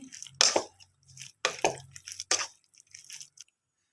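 Wet squishing and sticky stirring as chicken sandwich filling is mixed with sauces, several distinct squelchy strokes with brief pauses between them, close up and with no speech.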